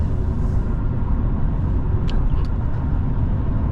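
Steady low road rumble and tyre noise fill the cabin of a Mercedes-Benz E220d cruising on the highway, a continuous even drone with a faint brief whistle partway through.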